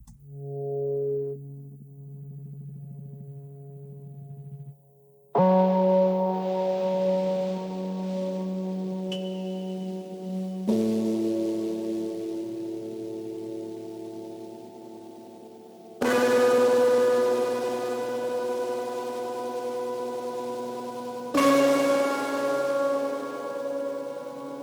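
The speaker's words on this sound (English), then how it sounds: "well, a very heavily modified piano" Slow, sustained chords from an effects-laden piano, each swelling and ringing out with a synthetic, pad-like tone, changing roughly every five seconds.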